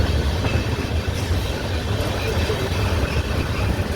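Kolkata–Sairang Express, train number 13125, runs toward NJP. Its steady, loud rumble of wheels and carriages is heard continuously from on board.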